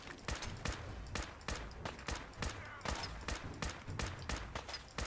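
Rapid gunfire in the video game Fallout, repeated sharp loud shots in quick irregular bursts, with a faint voice underneath.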